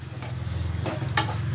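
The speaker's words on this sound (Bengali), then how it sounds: "আরও 2 সেকেন্ড আমি ভেজে নেব মশলাটাকে।" Masala spice paste fries in oil in a pan for a Bengali masala eggplant dish, giving a close, steady sizzle with soft scraping stirs.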